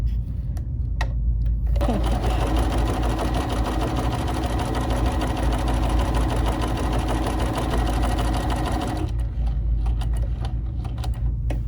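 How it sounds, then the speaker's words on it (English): A BERNINA 3 Series sewing machine runs a steady straight stitch for several seconds, its fast even mechanical whirr loud and close with no talking, starting and stopping cleanly. "now I'm going to stitch this out next to the asterisk stitch that I just did"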